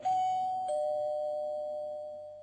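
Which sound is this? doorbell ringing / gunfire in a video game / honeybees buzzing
doorbell ringing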